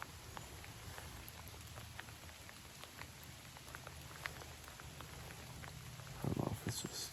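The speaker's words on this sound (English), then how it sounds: "Starting to rain pretty good now." Steady rain falls through woodland on a gray day during a public-land bowhunt in Wisconsin, a dense even patter with scattered sharper drops and a brief louder burst near the end.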